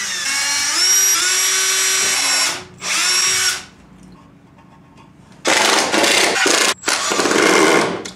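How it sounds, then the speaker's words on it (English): A power drill whines loudly in two bursts drilling pilot holes in pallet wood, pauses to near silence, then buzzes again in rough, uneven runs as a screw is driven. "drill some pilot holes at the ends and screw it together."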